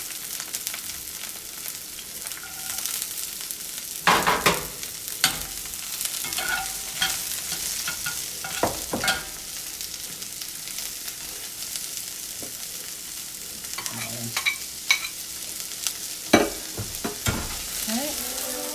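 Onions fry and sizzle in a pan for a beef casserole, a steady hiss broken by repeated scraping bursts as they are stirred.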